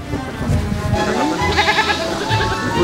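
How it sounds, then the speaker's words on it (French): A goat bleats several times in quick, wavering cries close to the listener, amid a busy outdoor film set with people talking in the background. "Et donc cette chèvre, c'était marrant parce que le mec qui a amené la chèvre a amené 2 chèvres."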